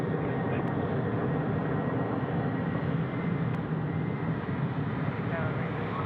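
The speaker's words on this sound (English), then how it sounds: "We've got our Air Canada 777 coming in on runway left" An Air Canada Boeing 777 comes in to land at Sydney Airport, a loud, steady, broad jet roar that fills the whole stretch without letup.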